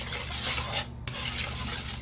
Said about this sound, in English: I am just going to stir this up.